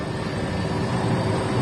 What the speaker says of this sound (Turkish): Şu anda da güvenli bir noktaya iniş yapıyor helikopter.